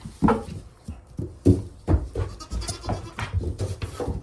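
Goats bleat repeatedly at close range, several overlapping calls in quick succession with barn shuffling in between.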